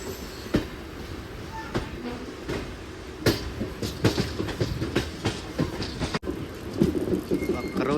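A MEMU express train pulling away, heard from on board, with a continuous rolling rumble, repeated sharp clacks of wheels over rail joints, and a brief dip midway.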